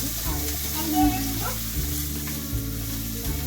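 Finely chopped onions frying in a pan, a dense steady sizzle with low rhythmic pulses, close and continuous through the short stretch.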